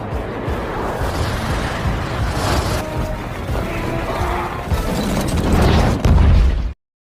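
A film explosion as a plane is rammed into a falling satellite high in the sky, heard as a dense, loud roar of crashing debris and mechanical clatter that swells toward a final heavy blast before cutting off.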